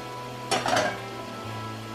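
Chopped carrots drop into a pan for cottage pie with a brief clattering tumble and a light sizzle of about half a second, over a steady low kitchen hum, with no talking.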